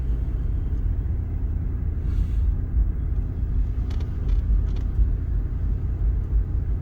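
Car driving along a road through Black Bottom in Logan, West Virginia, heard from inside as a steady low rumble of engine and tire noise, loud and continuous, with no talk.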